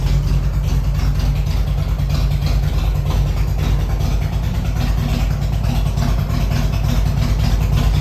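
A 1998 Harley-Davidson FLSTS Heritage Springer motorcycle engine idles steadily with a deep, continuous rumble, loud and close, with no talking.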